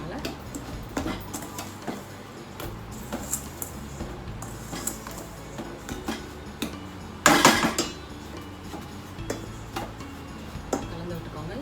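Ladle scraping and clinking against a pan while rava ladoo mixture with ghee-warmed cashews and raisins is stirred, steady scrapes with one louder burst of clatter midway.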